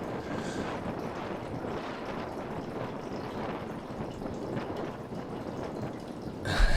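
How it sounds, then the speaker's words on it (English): Strong, gusting wind blows steadily across an outdoor disc golf course, a constant dense roar buffeting the microphone throughout, with a louder rumble at the very end. "it's a ripping left to right wind now"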